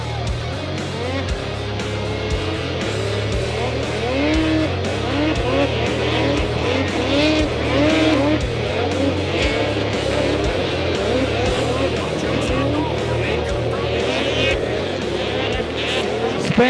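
Snowmobiles race at the 54th GFL Environmental International 500 snowmobile race, engines droning and whining steadily as sleds pass, with a commentator talking throughout over the continuous loud roar.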